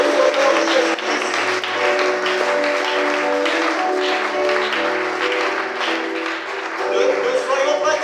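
A church congregation applauds and cheers in praise of the Lord, sustained clapping and crowd noise filling the room alongside loud talk and music.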